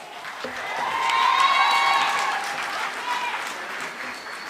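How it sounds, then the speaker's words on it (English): Sustained audience applause at a university graduation ceremony in Windhoek, steady dense clapping from a large crowd that swells in the middle, with faint cheering and voices underneath. "you can give her a round of applause."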